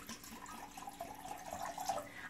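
Water is poured steadily into a Neti Pot, a soft, close trickle and splash running for about two seconds, fairly quiet and with no talking.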